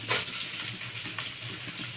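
Soft, steady sizzling of chopped coconut frying in a pan, with faint scraping of a utensil stirring.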